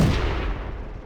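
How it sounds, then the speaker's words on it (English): In a tank video game, the main gun of a Renault FT AC fires a speculative shot on the Malinovka map: one loud, close boom with a long rumbling tail fading out over about a second. "So I'm indulging in a little spec fire because I've got a ton of ammunition in this thing."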